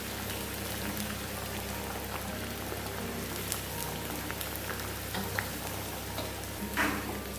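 Onions frying for mutton biryani after almonds and cashews went into the pot, a soft, steady sizzle and crackle close by with occasional stirring scrapes, no voices.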